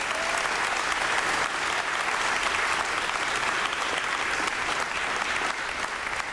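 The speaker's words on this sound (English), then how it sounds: "if we could just give a round of applause for our team here at the airport" Dense, sustained applause from a gathered audience at an airport announcement event, loud and even across the whole stretch with no break or voice over it.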